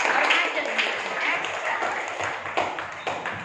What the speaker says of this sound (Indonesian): Tepuk tangan buat kelompok 2 dong